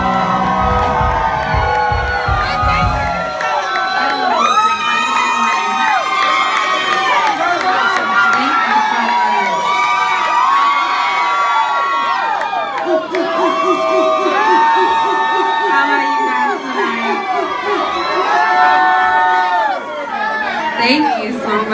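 A large crowd cheers, whoops and shouts continuously, loud and sustained, with many overlapping voices and high-pitched screams.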